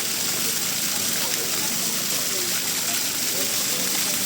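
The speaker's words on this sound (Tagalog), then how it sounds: "Ito galing tubig niya." Water flowing steadily at a natural bathing spot, a constant broadband rush close to the listener with a voice talking over it.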